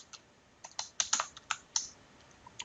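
Close, quick keystrokes on a computer keyboard in a short irregular burst of about a dozen crisp clicks, with no talking.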